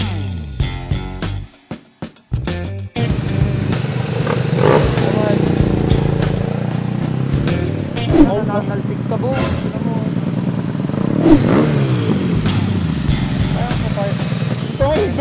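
A motorcycle is ridden in the rain, its engine a steady close rumble that rises and falls. Speech runs over the engine for most of the stretch after a few choppy opening seconds.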